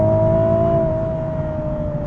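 A naturally aspirated V6 in a Nissan Z sports car with manual transmission hums steadily at high revs, a strong sustained engine tone holding for about two seconds, close and loud with no talk.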